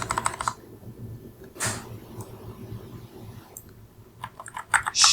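Someone typing code on a computer keyboard, with soft clustered key clicks and clacks near the mic in short bursts at the start, middle and end, quieter keystrokes between.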